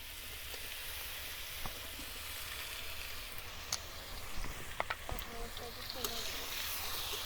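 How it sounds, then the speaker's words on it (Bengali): An olive sweet pickle sweetened with sugarcane jaggery boils in a pan with a steady, rain-like bubbling and sizzling hiss, broken by occasional sharper pops close by. "এখন আমার জলপাই সুন্দরীগুলো কীরকমভাবে ফুটতেছে"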